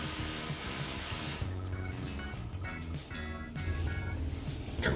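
A cheap spray paint can hisses in a long loud continuous burst, then eases into shorter, softer spurts with brief gaps, close to the listener.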